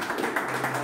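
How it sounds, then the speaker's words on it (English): Audience clapping at an installation ceremony, a steady, dense patter of many hands with a faint hum underneath, lasting under a second. "I think he deserves a clap."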